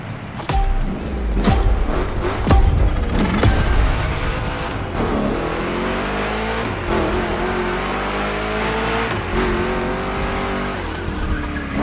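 Chevrolet 3100 big block truck engine in The Crew Motorfest gymkhana racing game, loud continuous roaring and revving with shifting pitch, tire squeals and skids throughout.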